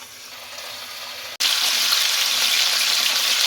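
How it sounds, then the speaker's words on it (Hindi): Marinated chicken goes into hot oil over fried onions for a desi masala chicken fry, and a steady sizzle jumps suddenly louder and brighter as the pieces hit the pan, then stays a dense crackle. "ये चिकन जो हमने मैरिनेट किया है उसको रख दें और उसको चिकन को भी फ्राई कर लें इसके अंदर"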